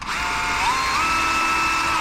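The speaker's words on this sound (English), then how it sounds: "I'm going to fit down into that step hole that's in there, and then I'm going to go ahead and drill it out a little bit." A power drill bores out a step hole in wood while building a face frame, giving a steady, close, high whine that rises in pitch as the motor speeds up, with no talking.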